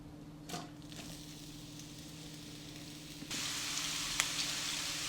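Chopped onion hitting hot oil in a pan for a dried-fish dish, quiet at first, then a sudden loud steady sizzle that continues to the end.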